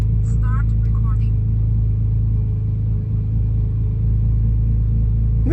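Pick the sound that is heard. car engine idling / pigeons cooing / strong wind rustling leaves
car engine idling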